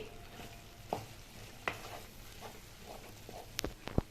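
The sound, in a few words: stirring ragi flour and wheat rava upma in a pan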